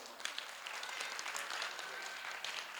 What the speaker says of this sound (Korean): 그래서 우리가 박수 한번 치고